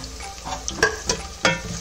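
Crushed garlic and ginger frying in a pan for masala chitranna, a soft sizzle punctuated by three quick stirring scrapes against the pan.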